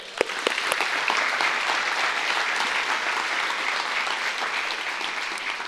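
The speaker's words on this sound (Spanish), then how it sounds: "Desen un fuerte aplauso." Sustained applause from a large audience gathered for a Good Friday church service, steady and dense clapping filling the room for several seconds without a break.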